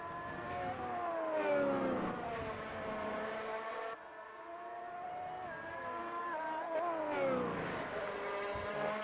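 Formula 1 race cars lap Monza in a racing video game, their high engine whines rising and falling through gear changes, with several overlapping passes and a brief dip in the middle, heard alone without talk.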